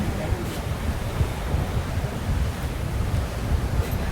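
Steady sea wind rushes and rumbles against the microphone, a dense low roar with no pauses.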